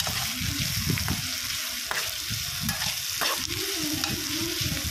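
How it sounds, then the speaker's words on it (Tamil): Slit green chillies sautéed in a pan while making a dried anchovy thokku: steady close sizzling and frying with scraping stirring strokes that repeat throughout. "பச்சை மிளகாயும் போட்டு வதக்கிடுவோம்."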